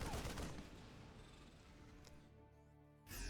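Units trade gunfire in a StarCraft II match between Terran and Zerg, with a loud burst of continuous shots and game effects that eases off before a sharp new blast near the end.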